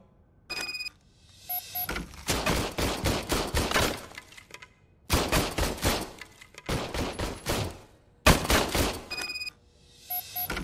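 An old service pistol is test-fired in RoboCop: Rogue City, bursts of rapid, loud shots in several clusters separated by brief pauses, with small electronic chirps between them.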